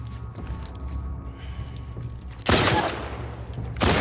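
Gunfire in The Last of Us Part II, with a loud burst of shots crashing in partway through, another burst at the end, and quieter game ambience before them.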